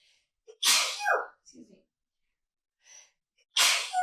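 Two loud sneezes spaced a few seconds apart, with small breathy sounds and a quiet gasp between them, close to the listener.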